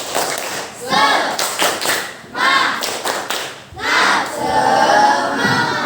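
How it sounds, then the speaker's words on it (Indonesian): An elementary school class performs a rhythmic spirit clap, with bursts of clapping in patterned beats and chanted voices joining in, a loud and energetic sound in a classroom. "Tepuk semangat"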